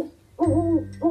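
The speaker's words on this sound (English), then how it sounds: "It's an owl." An owl hoots loudly and close in an autumn forest scene, a long wavering hoot followed by the start of another, with no talking.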